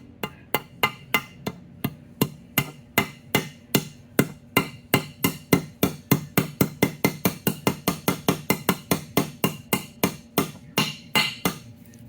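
Rapid, steady hammer taps drive a sealed part into place during a Tecate 4 engine rebuild, dozens of sharp, close strikes that quicken toward the end and ring with no talking.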